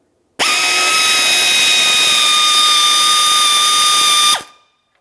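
A power tool whirs in one continuous, steady run of about four seconds, starting and stopping abruptly, while removing two 10mm-headed bolts from the fog light bezel of a 2009-2019 Ford Flex.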